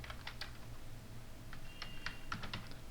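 Computer keyboard keys clicking as HTML code is typed, with quiet, close keystrokes in short irregular bursts over a low background hum.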